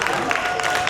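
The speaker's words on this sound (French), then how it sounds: "On applaudit." Brief burst of audience clapping and crowd noise at a tattoo expo awards ceremony in Menton, moderately loud with a murmur of voices beneath.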